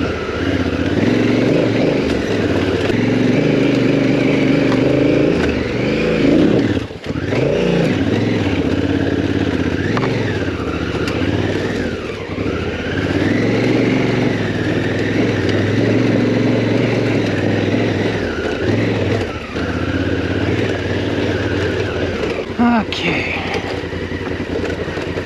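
Honda CRF1000L motorcycle engine running steadily and loud throughout while riding off-road on a steep black diamond trail, with a brief dip near the seven-second mark.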